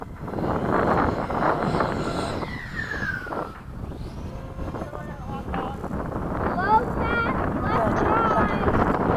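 An FMS 80mm Hawk model jet makes a low pass from the left at a flying field. Its whine sweeps down in pitch as it passes, under heavy wind buffeting on the microphone, and people talk nearby.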